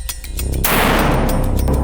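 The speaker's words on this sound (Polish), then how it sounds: "Pierwszy strzał, ważka 40 grainów, Wezuvit." Black powder gun firing a 40-grain charge of Wezuvit powder, a single sharp blast that bursts out after a brief quiet lead-in, followed by a loud, rough, sustained roar and rumble to the end.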